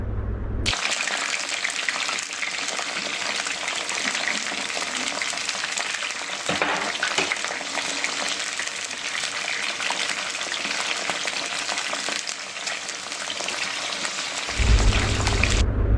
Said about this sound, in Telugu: ఇప్పుడు ముందుగా ఒక ప్యాన్ పెట్టేసుకొని దాంట్లోకి ఆయిల్ వేసుకొని హీట్ ఎక్కిన తర్వాత ఇలా వంకాయలు వేసేసుకుందామండి.